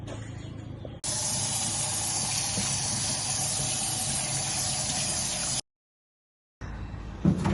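Water runs steadily from a tap over a slab of home-cured bacon being rinsed, a loud continuous gush that stops abruptly, falls silent for a moment, then resumes.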